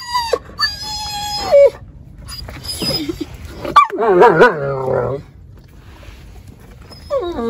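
A dog barks, yips and whimpers in a close, excited series of sharp vocal bursts, with a person talking in between.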